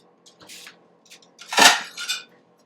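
A plate being picked up makes a few light clinks of crockery, then one louder ceramic knock and a smaller clink, close and brief, with no voices.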